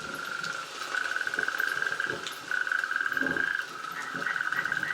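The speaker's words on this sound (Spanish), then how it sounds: "se incorpora un sapo corredor" Natterjack toads calling at a pond at night in the rain, a steady continuous trill chorus running under light patter of rainfall, fairly close and moderately loud.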